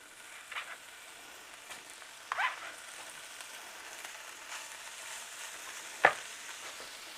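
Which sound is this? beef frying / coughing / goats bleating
beef frying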